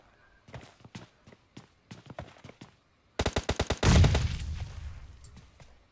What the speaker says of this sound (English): So some nades going out, fire being exchanged.